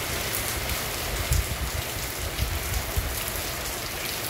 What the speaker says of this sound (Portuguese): E a chuva continua.